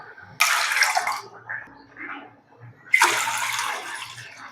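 Water is poured into a cooking pot in two separate bursts, each a loud gushing splash lasting about a second with a quiet pause between.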